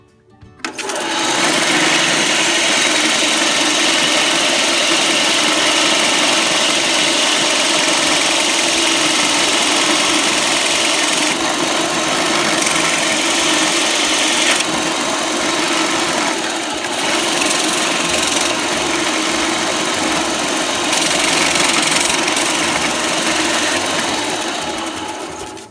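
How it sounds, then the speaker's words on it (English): A power sander runs steadily and loudly for about 25 seconds against a wooden train whistle, giving a constant high whining drone that shifts slightly as pressure changes. "I'm gonna sand that off"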